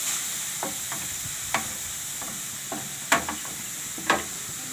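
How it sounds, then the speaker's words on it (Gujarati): A bottle gourd laddu mixture is stirred in a pan after sugar goes in, giving a steady sizzling hiss broken by about half a dozen distinct scraping strokes at an irregular pace, close and fairly loud. "તો હવે આપણે આમાં ખાંડ નાખી દેવું।"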